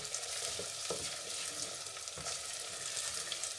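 Garlic frying in hot oil beside mutton koftas for a curry, a steady close sizzle with soft stirring scrapes throughout and no talking.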